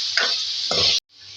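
Dumba mutton frying in hot oil gives a steady bright sizzle, with two short bursts of stirring clatter in the pan before the sound cuts out abruptly and a softer sizzle returns.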